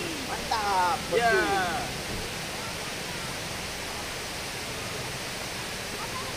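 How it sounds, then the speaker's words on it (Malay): Seri Perigi waterfall at Lata Bayu in Malaysia, a steady broadband rush of falling water that holds constant throughout, with a short burst of voices near the start. "Air terjun Seri Perigi"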